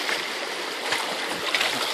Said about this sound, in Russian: Здесь видите, какие мощные волны.